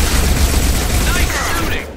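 Rapid, loud bursts of gunfire rattle through a firefight in Mass Effect 2, sharp overlapping shots stacked close together for about two seconds before trailing off.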